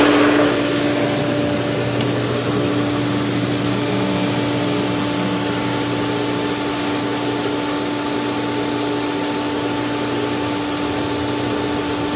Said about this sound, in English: Main pump is running fine.